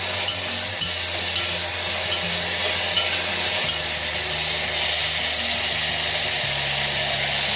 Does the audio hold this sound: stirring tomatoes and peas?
yes